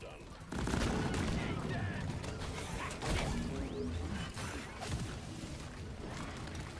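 Heavy continuous gunfire from the Spinning Death weapon mixes with exploding lure grenades in Deep Rock Galactic, a dense, loud clatter with whooshing sweeps and mechanical clanks throughout.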